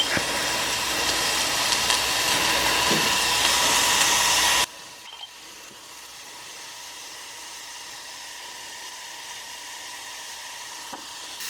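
Onions sautéing in a pan give off a loud, steady sizzle and hiss that cuts off abruptly midway, leaving a faint low background hum.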